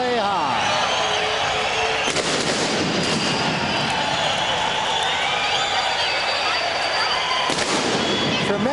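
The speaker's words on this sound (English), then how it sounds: "And now the fireworks going off, and here comes Jesse James Leija." Fireworks bursting at a boxing event entrance, loud repeated booms and crackles over a roaring arena crowd, with an announcer talking throughout.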